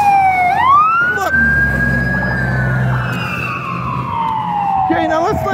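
Loud wailing police car siren sweeping up and down in pitch, close by and continuous, with a second siren tone joining near the end over traffic rumble.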